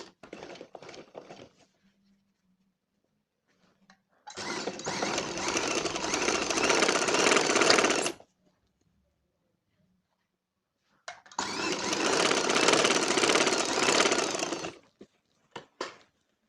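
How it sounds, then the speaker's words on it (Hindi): Sewing machine stitching the collar of a school uniform coat, two long steady whirring runs of several seconds each, close and loud, separated by near silence and a few brief handling noises. "फिर दोबारा सिलाई लेके जाएंगे। इधर से पक्का करेंगे इसे।"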